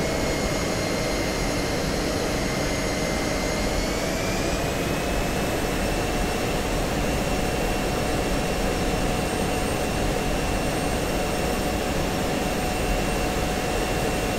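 A fighter jet engine roars in the DCS flight simulator as the aircraft accelerates, a loud continuous turbine whine whose high tones step upward partway through, steady and dense without any talk.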